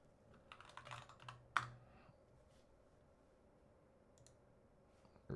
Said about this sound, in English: But let's try how this board sounds. I'll do a few quick typing tests.